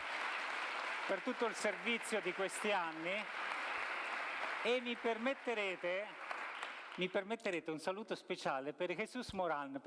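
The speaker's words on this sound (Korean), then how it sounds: "지난 몇 년간의 봉사에 진심으로 감사드리며 박수를 보내고 싶습니다" An audience applauds in thanks for years of service at a community gathering, a steady wash of clapping running beneath a voice that talks over it throughout.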